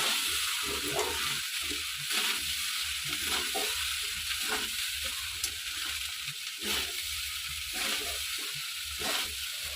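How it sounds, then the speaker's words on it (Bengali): A spatula stirs and tosses fried rice with vegetables in a hot pan, giving repeated rhythmic scraping strokes over a steady sizzle, close and fairly loud. "এবার আমি খুন্তির সাহায্যে খুব ভালো করে নাড়াচাড়া করে নেব"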